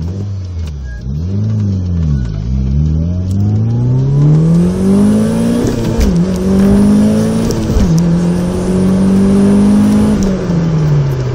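A Mitsubishi Lancer Evo IV engine revs loudly and close as the car accelerates from 0 to 100 km/h. Rising engine pitch is broken by distinct gear-change dips, with no talking over it.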